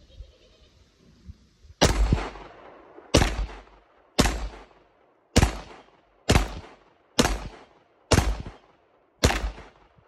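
A Tisas 1911 9mm pistol loaded with Mec-Gar magazines fires eight loud, sharp shots outdoors at an even pace of about one per second, each crack followed by a short echoing decay.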